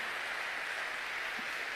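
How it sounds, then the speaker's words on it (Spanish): A church congregation applauds together during a service, a steady broadband wash of clapping that stays even and fairly soft, as if heard from some distance, with no voices standing out. "aplauso grandote al Señor ahí."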